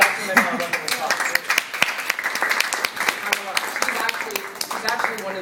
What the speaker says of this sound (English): I want everyone to give Dr. Manal a round of applause